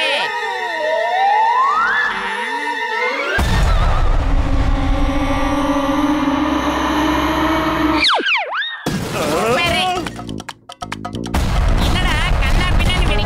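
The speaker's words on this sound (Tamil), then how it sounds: "இப்ப பாம வெடிக்க வச்சிடலாம்." Cartoon bomb blast in a 3D animated kids' show: comic boings and whooshing sound effects give way to a loud, sustained roaring explosion, followed by crashing debris and further clattering effects, with no talk over it.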